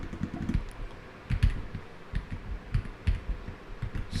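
Rapid keystrokes on a computer keyboard as a command is typed, clicking in short irregular bursts with brief pauses, close and moderately loud with no talking.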